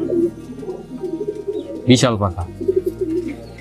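A high-flying pigeon in a loft coos once, fairly close and moderately loud, while someone speaks over and around it.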